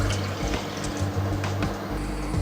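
Water is poured from a glass into a pan while making vermicelli custard, a soft, close splashing pour with a few small clinks, with no talking.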